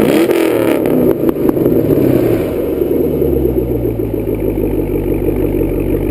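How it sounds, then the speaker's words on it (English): A 5th gen Chevrolet Camaro engine cranks, fires up and revs, its exhaust swelling into a loud rumbling roar before settling into a deep, steady idle close by. "so I'm going to do a startup and rev"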